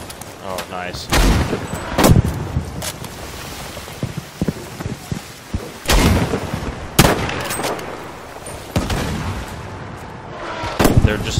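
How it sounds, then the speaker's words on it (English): Rockets lobbed over in a naval battle game land as booming blasts and cracks spaced a second or two apart amid steady crackling battle noise, with people talking over them. "They're just now lobbing rockets over."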